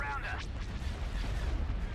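Heavy cannon fire booms through a Star Wars space battle video game, with dense, rumbling blasts and explosions rolling continuously across the whole stretch.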